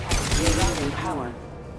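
High-impact gunshot in Mass Effect 2 on Illium, a couple of sharp heavy blasts with a booming low-end tail that fades out, a voice talking briefly underneath.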